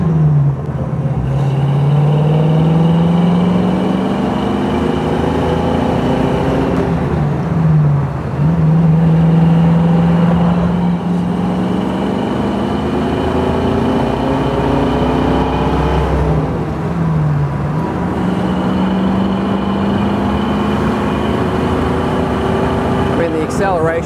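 Burgundy 1965 Ford Mustang A-code 289 V8 convertible accelerating at highway speed, engine note rising through repeated pulls with gear changes between them, loud and steady throughout with no talk.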